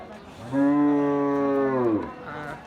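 A Brahman cross bull at a cattle market gives one long, loud, close moo lasting about a second and a half, with quieter market background around it.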